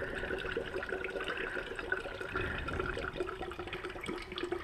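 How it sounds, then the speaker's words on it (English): Coolant bubbles and gurgles faintly as it runs into a car's cooling lines during a coolant change, a soft, continuous liquid churn heard close up with no talking. "You can hear it bubbling. Those are the lines filling up."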